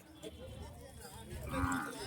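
A cow moos at a busy weekly Sunday cattle market in Santhipuram, Andhra Pradesh, a short low call rising from the crowd noise while people talk nearby.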